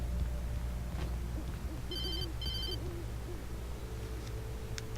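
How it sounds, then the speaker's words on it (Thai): A phone rings in the video game Alan Wake: two short electronic ring bursts in quick succession over a low, droning in-game ambience, with faint hooting tones drifting underneath. "โทรศัพท์เข้า"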